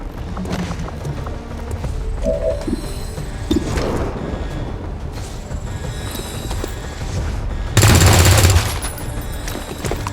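Gunfire in the video game XCOM 2: scattered shots and bursts over a busy game soundscape, with a loud burst of fire near the end.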